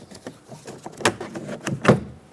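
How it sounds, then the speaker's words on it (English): A few sharp plastic clicks and snaps as the plastic bezel around a 2011-2018 Ram 2500 door handle is pried loose, close and fairly loud, with short scraping between them. "Now you can remove this bezel that sits around the door handle itself."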